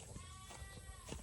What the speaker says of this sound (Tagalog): Mga kambing, iyak na iyak.